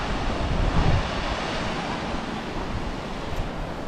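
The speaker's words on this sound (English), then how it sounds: "So there's the waterfall." Continuous rushing water from a waterfall and river in Peneda-Gerês National Park in northern Portugal, a broad steady roar that stays close and loud with slight wind buffeting on the microphone.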